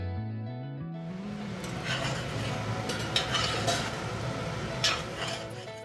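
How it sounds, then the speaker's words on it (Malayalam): Pork pieces dusted with ground black pepper get stirred in a pan for a pressure-cooker pork fry, a spoon scraping and clinking against metal over a soft steady sizzle, close and continuous. "ഇനി നല്ലപോലെ അടി ചേർത്ത് ഇളക്കി യോജിപ്പിക്കണം."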